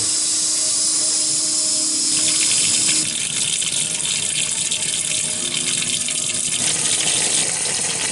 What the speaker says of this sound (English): right now I'm filling it up with water, which you just hook up like this and turn it on